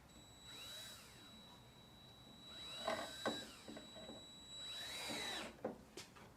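A power drill whirs in two bursts, its pitch rising and falling as screws are driven into wood, with a faint high whine throughout and a few clicks.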